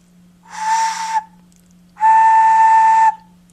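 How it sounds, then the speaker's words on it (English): Two shrill, steady tones from a handmade, decorated clay pig whistle: a shorter, slightly wavering blast followed by a longer, louder, sustained one, close and clear with a faint background hum. "Actually, it's a vampire pig whistle."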